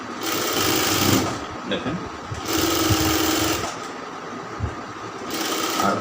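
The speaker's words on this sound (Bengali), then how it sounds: "হাতা জয়েন করছেন বডির সাথে, এখানে 2টা সেলাই দেবেন।" A sewing machine runs in steady loud bursts as it stitches the sleeve-to-body seam of a round kameez, stopping briefly between runs, while someone talks over it.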